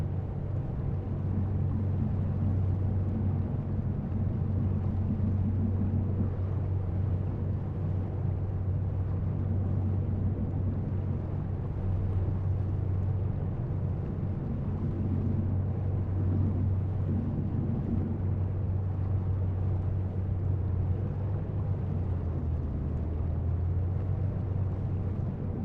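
Ship engine in the video game Seafarer: The Ship Sim, a steady low droning rumble with a constant hum, continuous and unchanging, with no talk over it.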